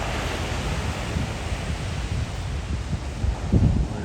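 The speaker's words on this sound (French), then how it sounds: "je vais vous montrer la mer à quoi elle ressemble avec les vagues" Ocean surf breaking on a beach where surfers are out, a steady broadband wash with a louder swell of a wave near the end, wind in the microphone and no talk.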